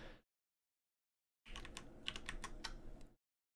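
Keys pressed on a computer keyboard during live editing: a brief tap at the start, then after a pause a dense run of quick clicks and taps for about two seconds, close and fairly quiet, with no talk.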